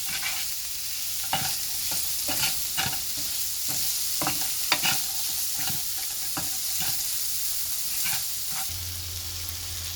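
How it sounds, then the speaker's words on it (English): Cumin seed powder frying in hot oil for a cabbage sabji, a steady close sizzle with intermittent scraping stirs of a spoon in the pan and no talk. "Now I'm going to allow it to cook nicely for at least 2 or 3 minutes before we put in our cabbage."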